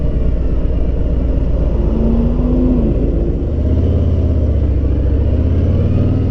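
A Harley-Davidson M8 Street Glide Special motorcycle rides on, its engine a loud, deep, continuous rumble close by, with the pitch sliding and dropping midway as it downshifts.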